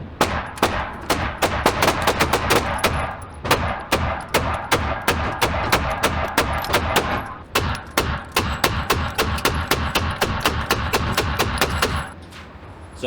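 An Echelon 4.0 pistol fires off a magazine at an outdoor range, a long string of loud, sharp reports in quick, steady succession, close up, with no talking.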